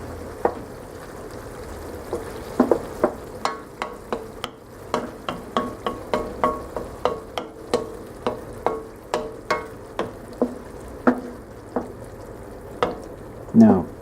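Canned tomatoes cook in a pan for spaghetti sauce, sending up a steady low sizzle and bubbling broken by frequent sharp pops and spits at an irregular rhythm, close by, with no talk.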